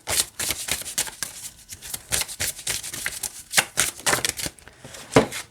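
Rapid riffling bursts of cards being shuffled, repeated several times in quick succession, close and crisp with no talking.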